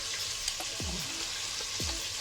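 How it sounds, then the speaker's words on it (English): Waffle batter is stirred in a bowl to work out lumps, a soft scraping swish under a steady background hiss, with two low sliding strokes standing out. "Just make sure you want to stir until you get all the lumps out."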